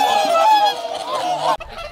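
Swans on a lake give loud, honking calls that overlap in a continuous nasal chorus, ending with a short break and fainter calls.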